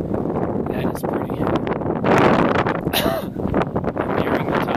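Strong gusty wind buffets the microphone, a steady broadband roar that swells and surges loudly throughout, with faint rustling underneath.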